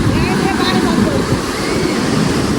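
A strong water current rushes with waves at a dangerous spot near Bhubaneswar, a loud, dense, unbroken roar of churning water and wind buffeting close to the microphone.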